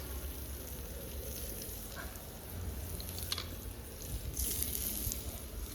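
Chicken pieces frying in a pan, a steady broadband crackle and hiss with a few brighter pops, close and continuous throughout.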